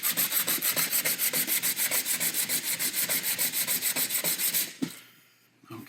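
Rough-grit sandpaper is worked over a cured J-B Weld epoxy adapter block in fast, even back-and-forth strokes, a loud close rasping rhythm that stops abruptly near the end with a small knock.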